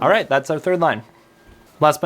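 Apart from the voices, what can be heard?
No distinct noise like a dog, phone or traffic.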